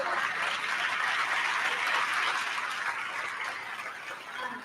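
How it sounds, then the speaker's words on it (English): Audience at a high school National Honor Society induction ceremony applauding faculty and staff, a dense, steady wash of clapping that fades slightly toward the end. "I will applaud"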